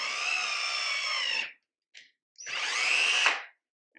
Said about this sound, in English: I started drilling into my wall